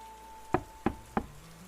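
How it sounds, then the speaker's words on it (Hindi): Three sharp knocks on a door at a steady, evenly spaced rhythm, fairly close and clear against a quiet room with a faint steady hum. "तभी दरवाजे पर खट खट खट की आवाज आती है।"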